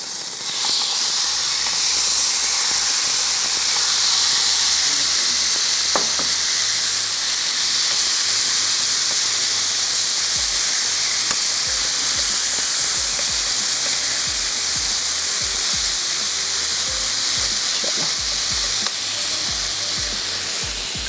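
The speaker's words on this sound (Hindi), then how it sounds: "अच्छा सा ग्रिल पैन गरम हो गया है तो अब आंच को कर देते हैं स्लो और बोटियां ऐड करके फैला लेते हैं" Pieces of meat sizzle loudly on a hot grill pan over lowered heat, a dense, steady crackling hiss that carries on without a break and with no talking.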